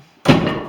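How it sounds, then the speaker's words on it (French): A door slams shut with a single loud, close thud that rings briefly and fades, following near silence. "c'est la porte qui vient de claquer"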